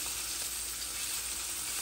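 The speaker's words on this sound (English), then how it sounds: "We're gonna let these sizzle for a few more minutes" Pieces of deer organ meat frying in a pan, giving a steady, close, even sizzle that stays unbroken throughout with no talking.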